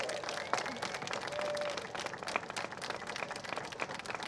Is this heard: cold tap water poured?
no